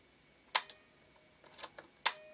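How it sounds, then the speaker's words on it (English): A Mamiya-Sekor 100mm f/3.5 leaf-shutter lens for the Mamiya Press, reassembled after a loose-blade repair, fires with crisp, sharp snaps: a quick double click, a softer cluster of ticks, then one more clean snap, close up in a quiet room. "So now I can actually try to cock the shutter, open the blades, and close it again"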